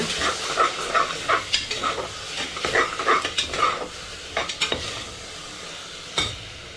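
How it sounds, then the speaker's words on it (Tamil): Crushed river crab tipped into a hot pan and stirred, frying and sizzling at close range with repeated scraping strokes and clinks of a utensil against the metal. "அடுத்தது நம்ம தட்டி வச்சுருக்கிற நண்டு அப்படியே உள்ளே ஊற்றிடுவோம்"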